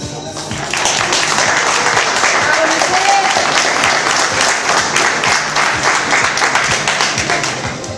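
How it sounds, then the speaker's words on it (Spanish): Audience applause at an Arabic dance show closing a dance series, loud and sustained clapping from a crowd, with some voices mixed in. "Vamos a darle un fuerte aplauso a Alice."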